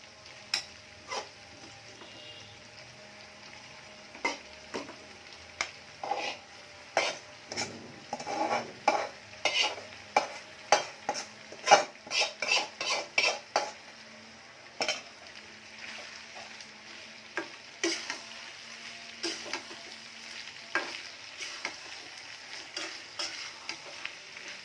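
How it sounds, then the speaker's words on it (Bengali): Beef tripe and onions fry in a pan with a steady sizzle while a utensil scrapes and taps against the metal in an uneven stirring rhythm, up close and with no talk. "ভুঁড়িও ভাজা হবে পেঁয়াজও ভাজা হবে"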